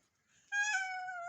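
A child imitates a cat with one clear, drawn-out meow. It starts suddenly after a brief quiet moment and is heard close up with nothing else around it.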